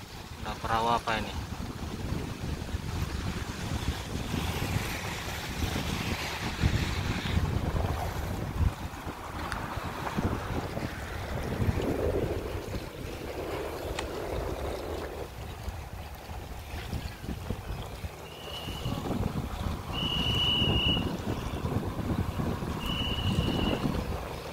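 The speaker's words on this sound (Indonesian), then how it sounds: "Tuh, ada kapal datang" Boat engine and water sounds mix with gusting wind noise at Losari Beach, Makassar, with brief high-pitched tones near the end.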